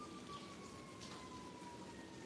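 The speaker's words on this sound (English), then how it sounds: "Can y'all hear the sirens?" Sirens wail faintly in the distance, a steady high tone slowly falling in pitch over a continuous background hiss that resembles rain or wind, with no talking.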